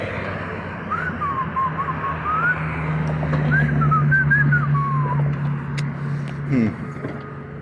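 Someone whistles a wavering, sliding tune over the rumble of a running vehicle, the melody fairly clear but partly buried in engine noise.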